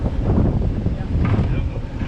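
Wind blows at about 15 miles an hour over open water at night on an overnight offshore fishing trip near Madeira Beach, Florida, buffeting the microphone as a constant, loud, low roar.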